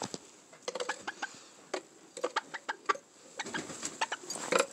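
A chicken clucks in short, irregular bursts close by, the sharp clucks spaced unevenly with quiet gaps between them.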